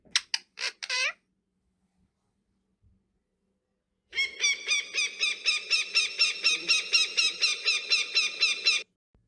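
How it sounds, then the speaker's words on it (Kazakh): Recorded bird calls for a listening exercise: a quick burst of shrill squeaks, a pause, then a long run of rapid rhythmic honking calls, clear and close with no talk. "Listen and number the birds in the order you hear them."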